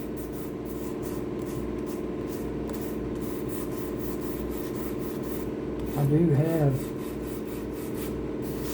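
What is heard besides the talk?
hand sanding pour fill on a guitar body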